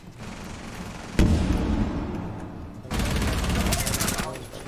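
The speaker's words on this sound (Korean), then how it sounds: "미라가 지금 쏘고 있고요." Automatic-rifle fire in the tactical shooter Rainbow Six Siege crackles in rapid bursts, one sharp burst followed by a longer sustained volley, while players talk over it.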